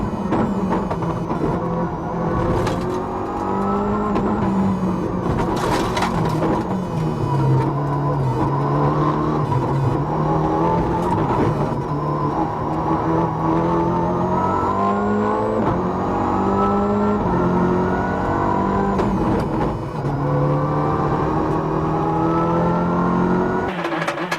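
A WRC rally car drives flat out on a special stage at Rally Catalunya, its engine revving loudly and continuously from up close, rising and falling through gear changes for the whole stretch.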